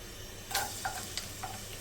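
Chopped garlic dropped into hot oil in a pan, giving a sudden crackling sizzle followed by a few brief spits and pops, fairly faint and alone.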